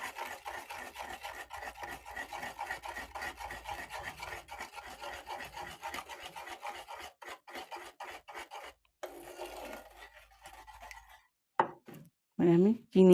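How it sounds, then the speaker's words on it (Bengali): Oil being beaten hard with another ingredient in a bowl for a marble cake, a rapid, steady scraping rhythm up close that slows and breaks off near the end, followed by a few clinks and a brief voice. "এবারে আমি এই দুটোকে খুব ভালো করে ফেটে নেব।"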